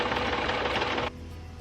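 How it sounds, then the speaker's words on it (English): A sewing machine runs fast, stitching a seam across a fabric corner with a rapid mechanical chatter, then stops abruptly, leaving a quieter hum and faint room noise. "I tuck the remaining fabric in and sew a seam across the corner."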